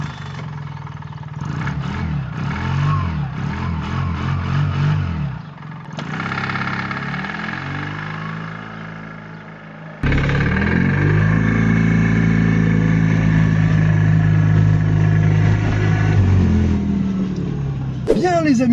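A Microcar MGO Must DCI minicar's small diesel engine idles, then revs and pulls away gently, rising in pitch through gears, close and steady inside the cabin.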